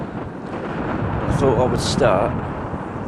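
Strong wind buffets the microphone in a steady low roar while someone speaks over it outdoors in a country park.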